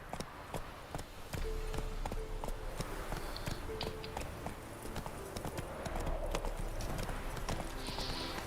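The horse Roach galloping in The Witcher 3, a quick rhythmic clip-clop of hooves with a soft whinny, steady footfalls continuing close by, with a faint voice now and then.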